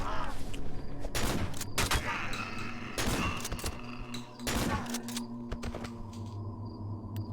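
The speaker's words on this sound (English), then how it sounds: "right, shotgun time" Shotgun blasts in the horror game Cry of Fear come as several loud, heavy booms spaced about a second apart, each followed by a ringing tail and mechanical clatter, over a constant low background hum.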